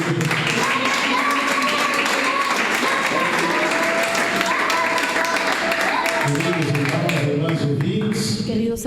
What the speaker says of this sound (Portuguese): Pode louvar a Deus com as palmas.